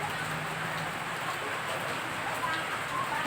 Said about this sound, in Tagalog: Unang ulan ng Mayo.